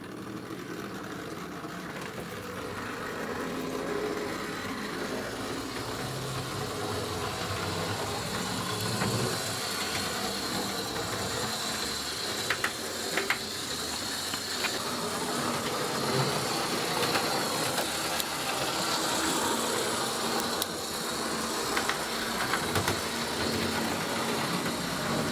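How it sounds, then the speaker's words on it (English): Model GWR railcar running on a model railway layout, a steady low motor hum and rolling rumble with faint clicks, continuous and fairly quiet, no talking. "we'll go for a ride in a rail car."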